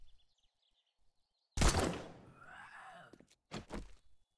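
A weapon shot fired in 7 Days To Die, one sharp loud crack followed by a decaying ring, then a second shorter burst moments later against a quiet background.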